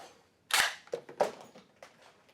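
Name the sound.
toy foam blaster firing a dozen Rival balls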